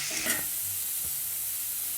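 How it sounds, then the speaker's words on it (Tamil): Carrots, potatoes and beans sauté in oil in a pan with a soft, steady sizzle, quiet and close, with a brief stirring scrape near the start. "ஒரு நிமிஷம் நல்லா வதங்கட்டும்"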